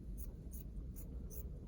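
Scissors snipping through the bumpy-dotted selvage edge of fleece fabric, four crisp, evenly spaced cuts at a close, quiet level over a low background hum.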